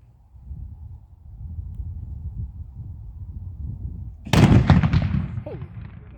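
A French-era mortar from the 1750s fires at an Old Fort Niagara reenactment with one loud, close outdoor blast that cuts through a low background murmur and then rumbles and echoes away.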